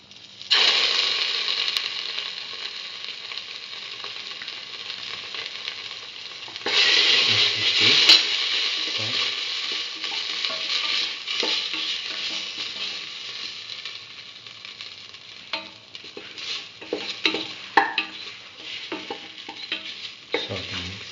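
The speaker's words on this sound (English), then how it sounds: "mix mustard paste thoroughly with the rest of the mixture" A spoon stirs a mustard potato rice mixture in a frying pan, giving a loud, steady sizzle followed by repeated close scraping and clinking against the pan.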